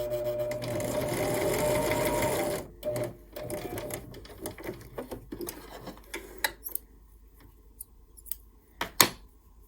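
A sewing machine runs steadily for almost three seconds while stitching the narrow stem of a tree on a small Christmas quilt, then falls to short bursts of stitching mixed with handling clicks and taps.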